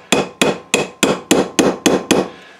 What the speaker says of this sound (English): we're gonna take a drift, a little drift punch here